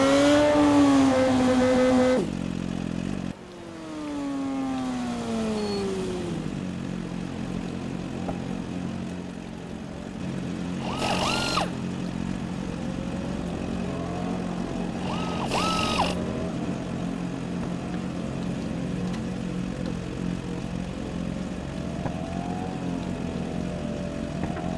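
A racing motorcycle in RIDE 4 at Donington Park slows into the pits during an endurance race, its engine note dropping and falling away, followed by a steady mechanical drone broken by two brief revving bursts.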